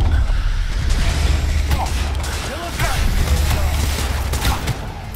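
Assault rifle fire in Cyberpunk 2077, a loud, dense stream of rapid shots with mechanical clatter, continuous across the clip with game effects mixed in.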